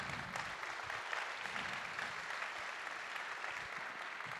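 Attendees at a French business conference clap together, a fairly soft but continuous burst of applause heard from a distance across the room.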